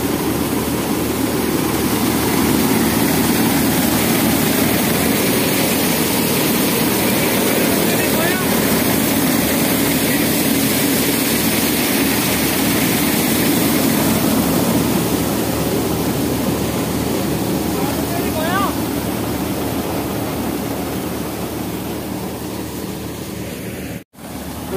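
A Mahindra 475 tractor engine runs at night during a wheat harvest, a loud, steady droning rumble that holds nearly constant throughout before cutting out abruptly at the very end.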